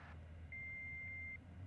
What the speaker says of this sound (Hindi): प्लीज अपना मैसेज छोड़िए इस बीप के बाद